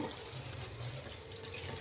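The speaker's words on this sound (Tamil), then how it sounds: "தண்ணி ஊற்றுங்க." Water pours steadily into a bowl to mix flour dough for a home-cooked dinner, a soft continuous rush with no talk.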